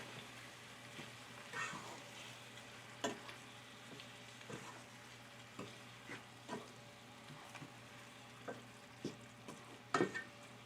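A spoon stirs black pepper and sugar in a pot, scraping repeatedly with soft, irregular clinks against the pan in a quiet kitchen, no voices.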